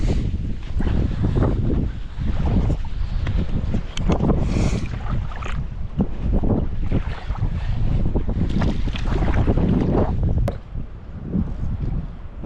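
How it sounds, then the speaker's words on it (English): Strong, gusting wind at a lake boat ramp roars continuously across the microphone, with buffeting rumble and water lapping beneath, loud and close throughout with no talk. "the wind is nuts though."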